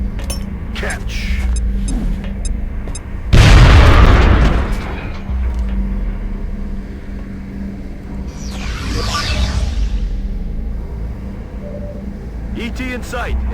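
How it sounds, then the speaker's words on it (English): A grenade explodes in the turn-based strategy game X-Com: Enemy Unknown, one loud, broad boom with a short rumbling tail, set among game sound effects and occasional talk. "Lob a grenade at him."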